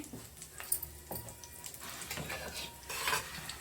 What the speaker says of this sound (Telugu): స్టవ్ మీద ప్యాన్ పెట్టుకొని ఆయిల్ హీట్ చేసుకున్నాను, కాస్త జీలకర్ర వేసుకున్నానండి